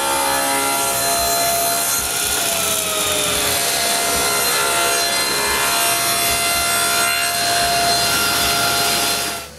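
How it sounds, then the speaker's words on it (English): Steady, loud sawing through wood to cut the bottom panel for a drawer organizer tray, continuous strokes running nearly ten seconds close up with no talking. "Then I can cut the tray's bottom."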